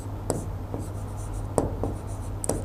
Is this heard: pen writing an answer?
yes